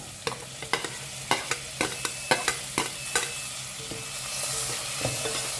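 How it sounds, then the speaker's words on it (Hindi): Two roughly chopped tomatoes fry with browned onions in a pan for Goan-style chicken xacuti. A spoon stirs them in a steady rhythm, its scrapes and clicks sounding close over a continuous sizzle, with no talking. "तो टमाटर को ना मैंने 1-2 मिनट के लिए अच्छे से भून लिया है।"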